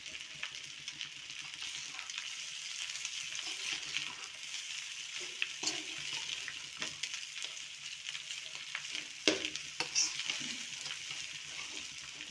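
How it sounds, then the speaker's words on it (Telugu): Lentils frying in a pan, giving a steady hiss of sizzling with scattered faint scrapes and stirring clatter throughout. "ఇట్లా పప్పులన్నీ వేసుకొని వేయించుకున్నామంటే"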